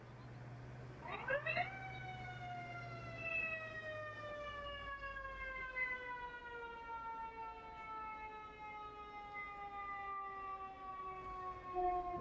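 Multiple emergency sirens from fire brigade and police vehicles in Istanbul wail together, their rising then slowly falling tones overlapping steadily for the whole span against a low street rumble.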